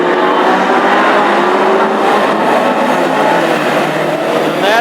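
Classic hot rod race cars in a heat at Hednesford roar past in a pack, a loud, continuous blare of engines with shifting whines and no break.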